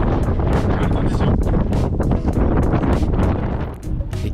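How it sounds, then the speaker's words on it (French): Strong gusting wind roars across an exposed high-mountain pass in snow, buffeting the microphone with a loud, continuous low rumble and surging blasts that barely ease toward the end. "Et comme vous le voyez, ça souffle très très fort."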